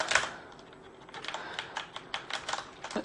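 Fast, uneven clatter of keys on a Corsair Vengeance K90 mechanical gaming keyboard, close and fairly loud, with sharp clicks in bursts and no talking.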